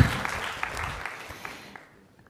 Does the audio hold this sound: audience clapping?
yes